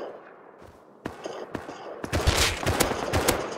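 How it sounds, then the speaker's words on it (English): AK rifle gunfire in the survival game Rust: a couple of sharp single shots, then a dense rapid burst of loud cracks that keeps going to the end. "Oh shit, that's the AK."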